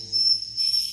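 A swiftlet call recording plays through an amplifier at a bird house, a thin, high electronic chirping tone that shifts into a brighter, buzzier trill partway through, faint and alone for about a second.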